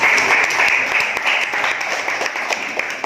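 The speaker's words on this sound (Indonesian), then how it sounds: "beri tepuk tangan buat" Students in a classroom applaud during a practice teaching lesson, a steady, dense clatter of many hands with sharp individual claps, loud and close, with faint voices beneath.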